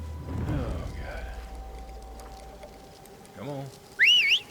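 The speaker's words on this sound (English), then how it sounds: "That whistle actually does draw attention." A whistle in the game Horizon Zero Dawn Remastered rings out near the end as a bright, wavering tone, loud and brief, after a stretch of quieter in-game ambience and scattered sounds.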